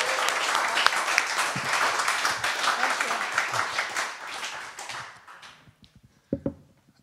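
An audience at the opening of Beatbox in Zwolle applauds in a dense burst that thins after about five seconds into a few scattered claps and light taps.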